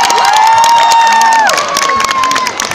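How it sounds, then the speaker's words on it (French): A TV studio audience cheers, whoops and applauds loudly for a Disney Channel team, a dense roar of crowd noise with high children's shouts and a sustained tone running through it. "un tonnerre d'applaudissements pour l'équipe Disney Channel."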